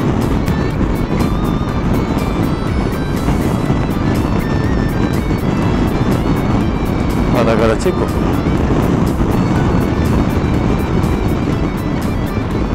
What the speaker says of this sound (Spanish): tiene un motor de 400, de 39 caballos, motor de 400 centímetros cúbicos